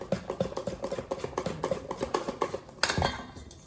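Pancake batter of egg and butter stirred with a utensil against a bowl, a quick run of rhythmic clinks and scrapes, close and moderately loud, ending in a slightly louder knock.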